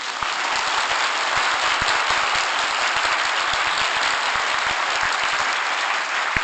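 An audience claps after a lecture at a court officials' training institute, steady dense applause throughout, loud and close, with no talking over it.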